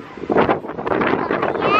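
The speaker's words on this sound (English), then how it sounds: "It's windy." Strong gusty wind buffets the microphone with a steady roar outdoors on a family summer holiday, while voices talk beneath it.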